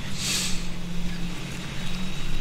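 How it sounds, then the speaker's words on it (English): A heavy tank engine, with a sound mod applied, rumbles steadily and loudly in World of Tanks during an E50M versus T-62A battle. The drone is continuous and dense, with a faint hiss over it and no talking. "I do have Gnome Father's engine mods installed, so you get nice sound from the engine if you can hear it properly."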